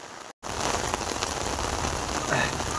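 Rain pours down steadily during an outdoor cricket match, a dense, even patter on surfaces that runs almost the whole time, broken only by a brief dropout near the start.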